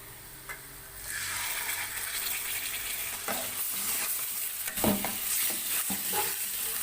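Okra (ladies finger) sautés in a pan, a steady close sizzle with scraping stirs and a few sharp clinks of the utensil against the pan partway through, with no talk.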